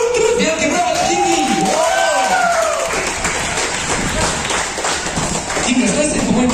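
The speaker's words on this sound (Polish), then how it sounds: "Wielkie brawa do Kingi!" An audience claps at an outdoor family festival show at Polsat Arena in Gdańsk, a steady wash of applause and crowd noise running under a loud, animated voice on a microphone.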